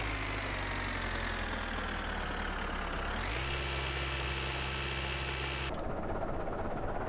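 Tractor engine idling in the My Winter Car video game, a steady low rumbling drone that shifts pitch partway through and then changes tone near the end, close and continuous without speech.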